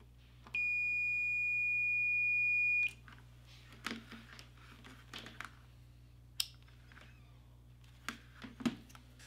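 A multimeter gives a steady electronic continuity beep lasting about two seconds while a simple GFCI circuit is tested, followed by soft handling clicks and light taps against a low background hum.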